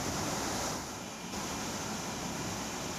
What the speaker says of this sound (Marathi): खडकवासला धरणाचे दरवाजे उघडलेले आहेत